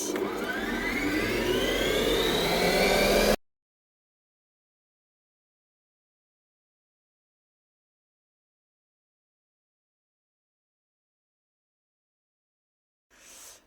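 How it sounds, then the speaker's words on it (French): A stand mixer whisks cake batter at high speed, a loud, steady motorized whir with rising whine for about three seconds before cutting off abruptly into silence, then a brief faint return at the very end. "Et on va fouetter jusqu'à ce que ça blanchisse et jusqu'à ce que ça mousse."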